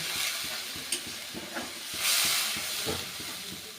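Spice paste for a rohu fish mustard curry sizzling and hissing in a pan as it is stirred, with a soft rhythmic scraping and a brief rise of steam, close and alone.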